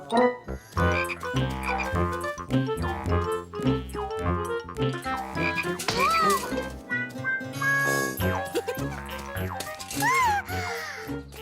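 Cartoon frogs croak in a lively animated scene for kids, with busy rhythmic croaks over music and sound effects and rising, chirpy squeaks near the end.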